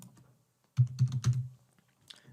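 A short burst of keystrokes on a computer keyboard while filling in a web form, a handful of quick close clicks in a quiet room followed by a faint final tap.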